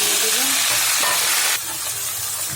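Potatoes go into a pan of frying onions and chilies for a Bengali fried potato dish, and a loud steady sizzle of hot oil fills the clip, dropping slightly in level partway through as the frying continues.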